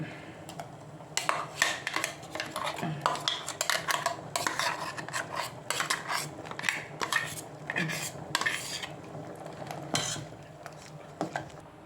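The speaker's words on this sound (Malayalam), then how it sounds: "ചേരുവകൾ അരച്ചിട്ട് മിക്സിയിൽ നല്ല പേസ്റ്റ് പോലെയായി ഇനി ഇതിലത്തേക്ക് ഇടുന്നു" A spoon scrapes and clinks against a metal pot as ground spice paste goes into a Kerala-style sambar, with repeated close rasping strokes and soft knocks over quiet kitchen background.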